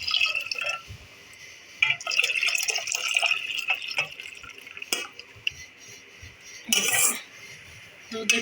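Milk with its cream is poured into a container for setting homemade yogurt, giving liquid splashes and drips with a few sharp clinks of utensils against a pot, fairly close.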